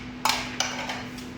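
Dry ingredients, including sugar and yogurt powder, are mixed in a bowl with a utensil. Two sharp clanks sound close together against the bowl over a low, steady hum.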